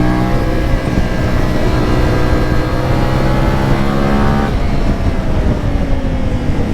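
A CF Moto 450 Ibex motorcycle engine pulls under throttle, a loud, close, continuous drone with rising harmonic pitch that shifts partway through as gears change, heavy wind noise mixed in and no speech.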